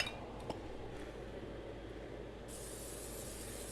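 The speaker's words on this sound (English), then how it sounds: "I'm just gonna lightly spray it with." Cooking spray hisses steadily onto a muffin tin in a home kitchen, a close continuous spray running across the whole stretch with a faint metallic clink near the start and a brighter hiss in the final second.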